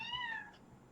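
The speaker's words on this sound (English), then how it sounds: "I got a cat meowing at me" A single short meow from a cat, a clear wavering cry that falls in pitch and fades within half a second over faint background noise.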